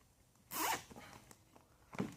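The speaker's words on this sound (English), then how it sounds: "So now you take your zip tie, kind of wrap this up a little bit, put your zip tie on there." A plastic zip tie ratcheting tight around wrapped plastic packing, one quick loud zipping pull followed by a shorter second pull, close and alone in a quiet room.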